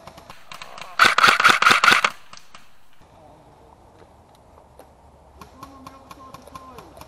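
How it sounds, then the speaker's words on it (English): Airsoft gunfire in an outdoor village arena: a loud rapid burst of closely spaced shots lasting about a second, followed by quieter scattered ticks and taps of BBs ricocheting off barricades. "Mostly ricochets."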